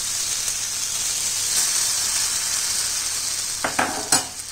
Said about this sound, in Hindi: उसके बाद हम अपनी कढ़ी में इसे अच्छे से तड़का देंगे।